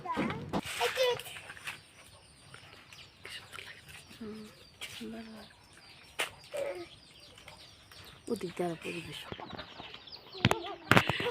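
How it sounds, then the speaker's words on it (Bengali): Chickens clucking and birds calling around a village home, scattered calls at moderate distance between stretches of people talking, including a child. "দেখুন কত হাঁস, কত মুরগি পালে চাচি শাশুড়ি, দেখছেন?"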